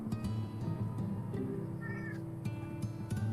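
A cat in Final Fantasy XIV Shadowbringers meows a few times over a steady layer of game music and ambience, close and moderately loud.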